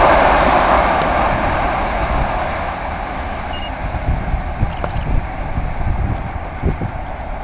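Class 86 locomotive 86101 working with 87002 on a charter train rolls past at Hitchin or Stevenage, a broad steady roar of wheels and traction that fades slowly as it moves away.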